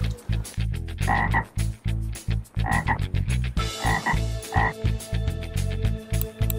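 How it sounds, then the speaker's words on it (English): A green frog croaks repeatedly in a steady pulsing rhythm, close and clear, the throaty calls falling in rapid bursts one after another with no talking. "Green frog."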